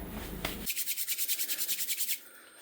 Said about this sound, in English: just rub my hands together to kind of warm that up a little bit